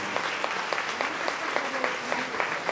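Steady rhythmic clapping from a crowd at a Bhagavat Katha religious gathering in Mirzapur, even beats repeating about every quarter second over a dense wash of hands, sustained and fairly loud.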